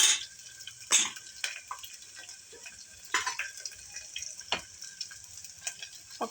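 Pieces of large onion and cloves fry in hot oil for a vegetable biryani, giving a steady close sizzle with scattered sharp crackles and pops throughout, and no talk.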